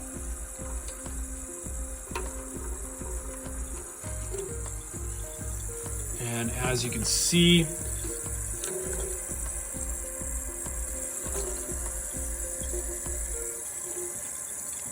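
Tap water runs into a Corkcicle whiskey wedge ice mold, a steady mid-level rush that carries through the whole stretch with a brief louder splash midway, while a person talks briefly over it.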